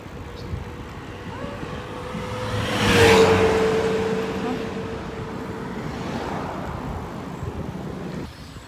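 A car drives along a road in southern Cebu. Steady road and engine noise swells as a vehicle passes close by, then settles back into a constant rumble.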